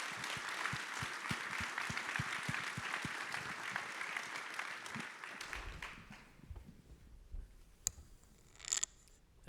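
An audience claps for a panel at a national summit, a dense round of applause that holds for several seconds and then fades to scattered claps and quiet room noise.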